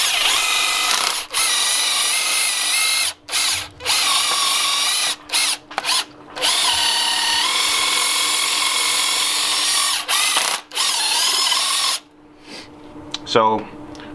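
A cordless drill spinning a Harbor Freight wire brush attachment whirs loudly and steadily, broken by several brief stops and restarts, then falls quiet near the end with a short rattling handling noise.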